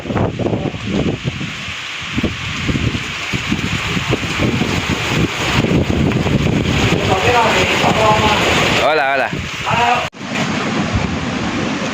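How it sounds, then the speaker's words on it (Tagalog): Strong typhoon wind roars and buffets the microphone throughout, with excited voices talking and exclaiming over the gusts. "Grabe yung lumakas na hangin na yun."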